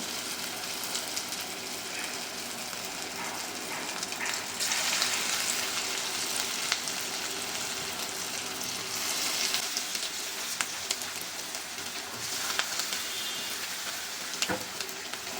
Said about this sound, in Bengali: তেল গরম হয়ে গেছে, এবার আমি একে একে সজিনা পাতার বড়াগুলো ভেজে নিব।